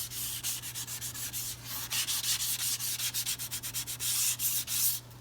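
Hand sanding across the grain of wood with 220-grit sandpaper, quick rhythmic rasping strokes, close and steady, with a low hum in the background.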